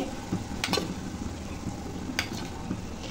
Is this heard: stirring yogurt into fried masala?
yes